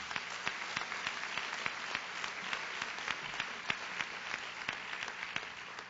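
Steady applause from an audience in a school district hall, a dense wash of many clapping hands that stays fairly even and moderately distant throughout.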